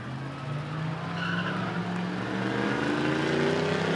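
Tires squeal in a long rising screech as pickup trucks launch in a spectator drag race at Rockford Speedway, with engine roar underneath, loud and steady throughout.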